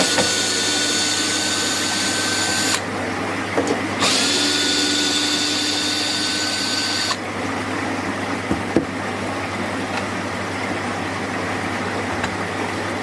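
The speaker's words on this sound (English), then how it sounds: "So just unscrew this panel" A power driver unscrews a panel from a koi pond Nexus filter, its whirring motor loud and close in several bursts over a steady background hum, with no talk.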